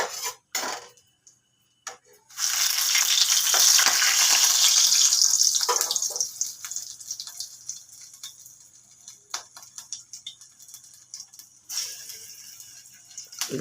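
Egg yolk pakoras coated in gram flour hit hot oil, setting off a loud, bright sizzle that fades into steady crackling and bubbling, with a few clinks of utensils and no talk.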